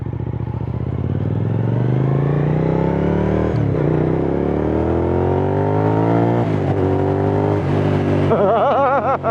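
A 2004 Suzuki SV1000 V-twin motorcycle engine starting up and revving, loud and close, with rising blips and a growing rev toward the end and no talk over it.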